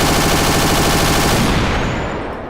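Anti-aircraft gun in the video game Battlefield Iraq fires a dense, continuous burst of heavy rapid rounds, loud and close, which fades somewhat in its last second.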